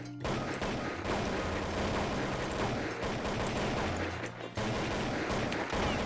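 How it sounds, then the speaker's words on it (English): Rapid gunfire from Counter-Strike: Condition Zero comes in dense, overlapping bursts of sharp shots, loud and nearly continuous. The fire pauses briefly a few times before another volley begins. "What are you shooting at your own teammate"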